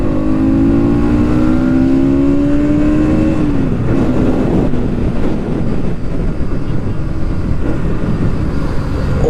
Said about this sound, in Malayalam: 3rd ഗിയർ പുള്ള് കാണിച്ചു തരാവേ.